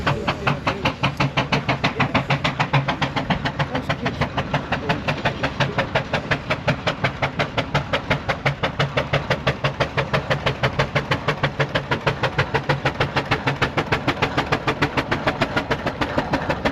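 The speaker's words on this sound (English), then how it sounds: "sounding very good coming up the hill, we have got a single cylinder barrel agricultural engine pulling two non-heavy" A single-cylinder agricultural steam engine hauls two non-heavy haulage trailers up a hill at the Welland Steam Rally, its loud chuffing beats fast and perfectly even throughout.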